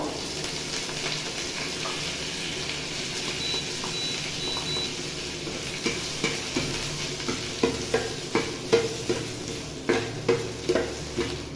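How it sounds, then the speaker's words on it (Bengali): Steady sizzling of neem leaves frying in a spoonful of oil in a pan, joined later by rhythmic spatula taps and stirring scrapes against the pan. "এরকম 1 মিনিটের মধ্যে নিম পাতা ভাজা হয়ে যাবে"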